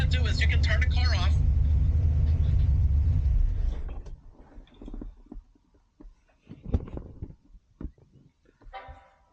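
A Buick Grand National engine idles loudly with a deep, steady rumble, then cuts out abruptly partway through, leaving quiet interrupted by voices talking.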